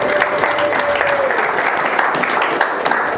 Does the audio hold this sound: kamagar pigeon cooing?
no